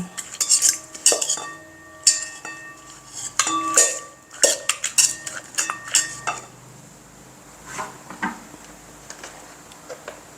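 Utensils clink and scrape against a bowl while cucumber salad is tossed with rice noodles, a close, irregular series of metallic taps and stirring sounds that thin out toward the end, no voices.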